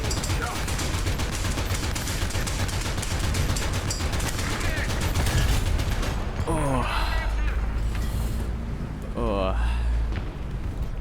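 Tank cannon and machine-gun fire in War Thunder around an M36 tank destroyer, dense continuous battle noise with repeated booming shots, several sharp rattling bursts late on, and a voice talking over it.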